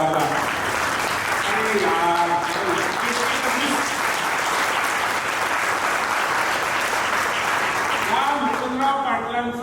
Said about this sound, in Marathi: त्यांच्यासाठी पण एकदा जोरदार टाळ्या वाजला